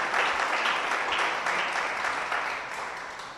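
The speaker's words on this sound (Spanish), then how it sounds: "Denle un aplauso al Señor." A church congregation breaks into applause, a dense wash of many clapping hands that stays strong at first and then gradually fades, with no speech on top.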